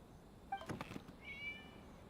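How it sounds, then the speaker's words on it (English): A cat meows faintly in the video game Hues of the Violet Garden: one thin, drawn-out call in a quiet scene, with no speech. "It was just a cat."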